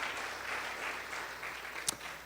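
Faint congregation applause during a church service, soft scattered clapping heard from a distance at low level, with a brief sharp knock near the end.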